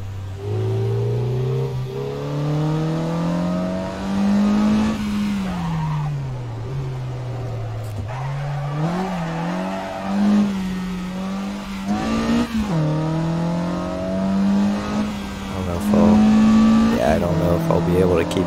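Mazda RX-7 engine racing in Assetto Corsa, revving steadily with rising and falling pitch sweeps as gears shift, loud and continuous, with other cars and a brief tire squeal mixed in and a voice talking over it.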